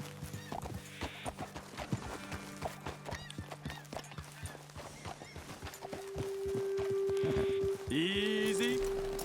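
Horses clip-clopping at a walk in the Red Dead Redemption 2 video game, a steady run of hoof taps with a horse neighing near the end over a low ambient drone.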